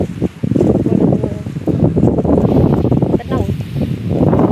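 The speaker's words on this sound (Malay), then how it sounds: "pemandangan ombak monsun pantai timur" Monsoon surf rolls onto an east coast beach in Kelantan, with strong wind buffeting the microphone; a steady, loud roar of waves and wind runs throughout with no clear breaks.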